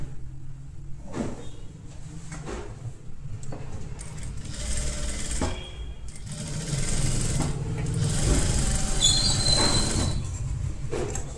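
A sewing machine stitches a blouse sleeve in quick whirring bursts, stopping and starting with soft handling noises between runs.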